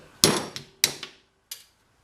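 A hammer taps a small punch to drive a pin out of a go-kart chain on a Willys Jeep-style build, giving three sharp metallic strikes with lighter rebounds, close and fairly quiet.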